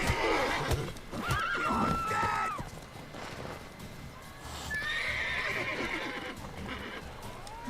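In The Witcher 3 video game, a horse whinnies loudly several times over the clatter of hooves, with a brief voice and game effects mixed in.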